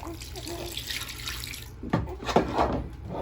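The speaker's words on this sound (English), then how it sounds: "So what I do is just dip the water in there and just pour it over his body." Water pouring and splashing over a newborn baby in a bathtub, a running, faucet-like flow with a few louder splashes toward the end, close by.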